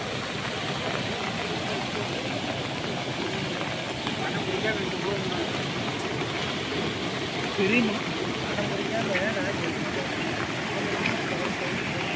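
Floodwater rushes across a road during heavy rain in Merkupathi, Tiruppur district. It makes a steady, broad roar that runs throughout, with faint voices talking over it.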